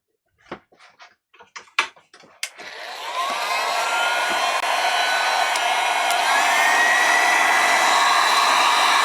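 A hair dryer blasts steadily at close range over lightweight, still-damp items, starting after a few sharp handling clicks and taps and then holding a loud, even rushing roar to the end.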